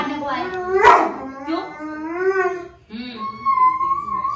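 Indoors at home, a pet dog lets out a string of whining, howling barks, loud and close, with a long wavering yowl that ends in a high whimper.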